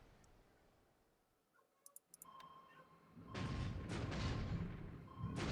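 In the War in the Pacific strategy game, combat effects play after a few sharp clicks: a rumbling, booming volley of naval gunfire swells and stays loud, with a second burst near the end.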